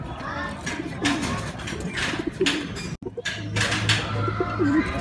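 Pigeons coo repeatedly at close range, soft throaty rolls over a busy background of rustling and faint voices as the birds gather to be fed.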